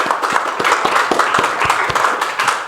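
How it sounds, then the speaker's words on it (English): Audience applauding a community forum panel, a dense steady wash of many hands clapping at close range with no talk over it. "let's give our whole panel again a round of applause for being here"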